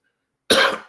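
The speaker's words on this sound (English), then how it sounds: "I seem to have just suddenly picked up a pesky cough" A single harsh cough breaks out of silence, close and loud, followed by the start of a second burst at the very end.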